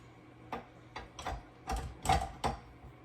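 Mechanical clicks and a clunking ratchet from the bowl-lift mechanism of a KitchenAid stand mixer fitted with a dough hook, about six short, close knocks spaced unevenly over three seconds in a quiet kitchen.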